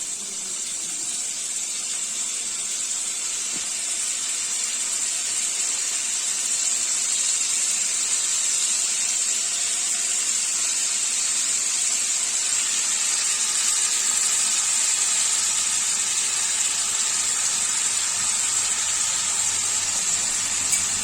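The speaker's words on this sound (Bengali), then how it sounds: "আমি এইভাবে আস্তে আস্তে করে, খুব বেশি ভাজবো না, হালকা করে লালচে করে ভেজে নেব" Paneer frying gently in a pan with a little salt, giving a steady, even hiss that carries on unbroken and fairly quiet with no talk.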